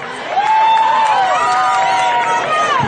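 Crowd at a junior high football game roaring and cheering loudly and steadily throughout, while an announcer's voice runs over the noise.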